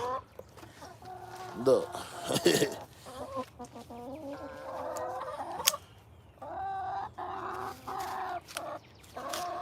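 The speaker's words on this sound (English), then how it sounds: "Sometimes give your chickens a little treat." Backyard hens cluck and squawk busily over treats, with a sharp squawk mid-clip and steady chatter throughout, while someone talks nearby.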